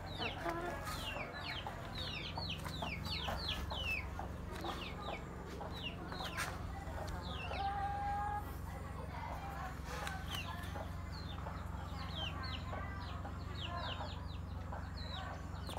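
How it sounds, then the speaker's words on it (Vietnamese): Roosters and hens in a chicken farm pen cluck continuously, with many overlapping close calls forming a busy, steady chorus; a voice is briefly heard in the background. "Đây là khu gà đúc nha."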